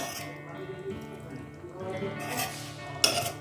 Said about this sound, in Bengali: একটু নেড়ে চেড়ে দিই পনিরগুলো সব দিকটা